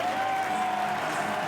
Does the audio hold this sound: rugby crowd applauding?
yes